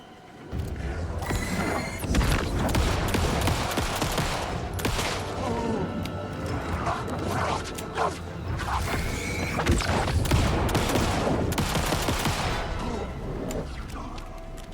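Rapid-fire gunshots ring out in Alan Wake 2, a dense, continuous barrage of shots and impacts lasting throughout, with a voice occasionally under the noise.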